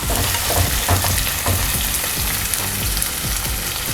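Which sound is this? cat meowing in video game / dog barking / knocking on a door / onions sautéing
onions sautéing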